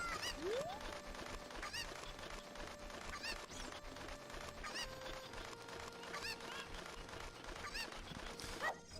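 Cucco chickens in the video game The Legend of Zelda: Ocarina of Time, giving faint, scattered honking clucks over a constant bed of game music and ambience, with no talking.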